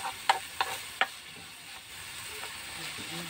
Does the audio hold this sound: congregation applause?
no